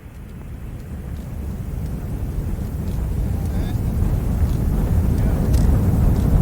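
Saturn V rocket engines during the Apollo 16 launch, a deep, steady, continuous rumbling roar that slowly builds in loudness, with faint radio voices over it.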